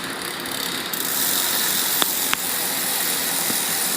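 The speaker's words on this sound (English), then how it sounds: "Free wheel definitely spinning nicely" Freewheel of a 1973 Schwinn Continental bicycle with a sluggish drivetrain spinning, giving a steady, fast ratchet-and-pawl whir up close, with a couple of sharper clicks partway through.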